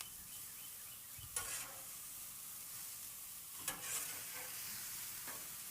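Burgers frying in a pan give a quiet, steady sizzle, with a few brief louder crackles or scrapes.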